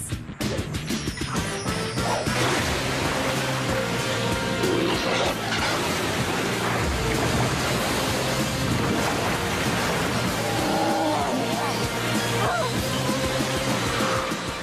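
A huge cartoon gush of water pours down like a mega shower, a loud, continuous roaring rush that drowns everything for the whole stretch, with a crashing burst at the start.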